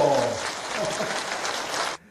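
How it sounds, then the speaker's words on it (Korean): An audience at a health lecture on blood pressure claps together in a short, steady burst of applause that cuts off abruptly, with a voice briefly heard at the start. "자, 박수 한번 주세요"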